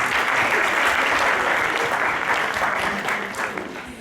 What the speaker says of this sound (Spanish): Así que por favor recibamos a Andrea con un fuerte aplauso